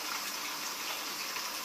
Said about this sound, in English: just get a sort of a medium flow of